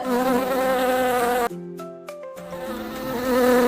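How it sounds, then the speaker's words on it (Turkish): A loud, close bee-like buzzing drones steadily, breaking midway into a brief different, purer-toned buzz before the rough drone returns. "arı"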